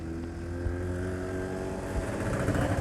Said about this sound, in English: Two-stroke K car.